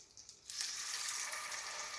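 Corn cakes sizzle and fry in a hot pan, a steady bright crackling hiss that jumps up suddenly and continues close and even, with no talking.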